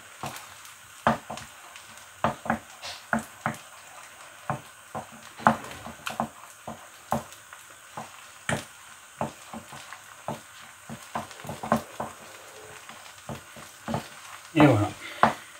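Chicken fried rice is stirred in a pan with repeated scraping, tapping strokes over a low constant sizzle, with a brief clatter near the end.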